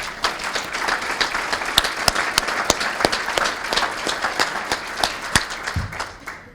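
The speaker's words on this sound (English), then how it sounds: "So give yourself a round of applause." A community audience at a recognition event applauds, steady clapping with sharp individual claps standing out before it fades away.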